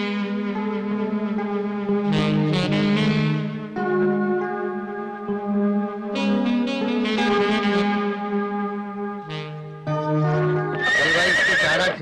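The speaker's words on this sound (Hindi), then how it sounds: "हीरोइन की घोड़ी है। बराबर इसका ख्याल रखना।" A mare neighs repeatedly in a Hindi-dubbed film, loud, close whinnies with harmonic tails separated by brief pauses, and no talk over them.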